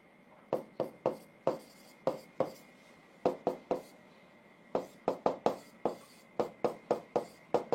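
Chalk scratching on a board during a math lesson, sharp taps and strokes coming in quick clusters of two to four, close and clear, with no talking.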